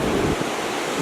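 Ocean surf at a surf spot, broad and steady wash of waves with wind rumble across the microphone, continuous and fairly close, no voices.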